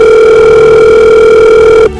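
A telephone rings with a steady electronic tone for nearly two seconds, loud and close, then cuts off abruptly just before the end.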